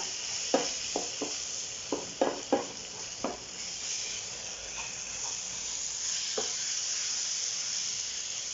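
Sausage pieces cooking in barbecue sauce in a pan, a steady soft sizzle broken by several sharp scraping stirs close by, quieter toward the end; no talking.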